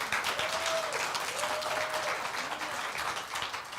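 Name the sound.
congregation applauding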